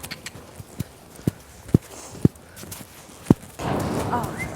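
A horse's hooves clip-clop at a trot during a riding lesson, sharp regular thuds of varying strength with ringing higher strikes, and a burst of broadband noise near the end.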